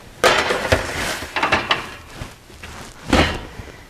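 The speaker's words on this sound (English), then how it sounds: "So now I'm going to place them in my oven." Homemade medium-size meatballs on a tray slid into a home oven: a series of metallic clanks and knocks from the tray and oven door, with a final loud clunk as the door shuts.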